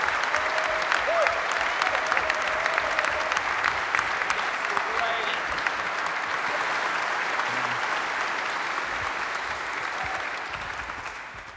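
Steady applause from a big evening audience at the Union Chapel fills the hall, sustained and fairly loud throughout, fading slightly near the end, welcoming Mairead King of the Arsenal Foundation.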